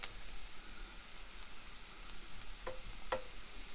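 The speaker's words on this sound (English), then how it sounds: "So we'll just let these onions cook down." Onions frying in a pan on a small boat stove turned up full, a steady soft sizzle heard up close with a few faint clinks and stirring scrapes, no voices.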